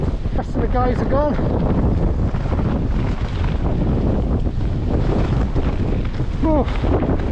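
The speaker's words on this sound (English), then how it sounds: "Oh, that is windy as hell." Loud gusting wind on a steep hike in the Brecon Beacons pummels the microphone throughout, a dense roaring rumble with brief bits of speech breaking through.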